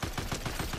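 A Fortnite weapon fires a rapid burst of about six sharp shots in under a second, loud and evenly spaced, with no voice over it.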